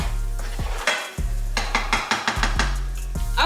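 Onions sizzling in a pan as a spoon stirs them, a loud close fry with repeated clanks of utensil on metal.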